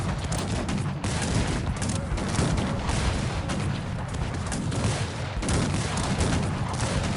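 Musket volleys crackle without pause in the Cossacks 3 strategy game, producing a dense, continuous roar of massed gunfire and distant booms at a steady loud level.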